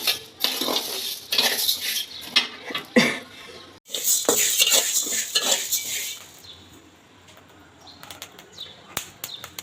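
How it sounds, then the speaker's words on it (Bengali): Rice grains dry-roast in a pan for chatu pitha, giving close, busy crackling and rattling with bursts of stirring that scrape against the metal. The sound thins to sparse ticks toward the end, with no voices. "কত সুন্দর চালগুলো ফুটতেছে।"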